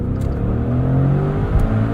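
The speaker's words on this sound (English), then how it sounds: "In normal mode, the exhaust is pretty quiet and toned down." A 2021 Maserati Trofeo performance SUV idles and runs in normal exhaust mode, producing a steady, subdued low engine rumble with a faint whir, heard close and alone.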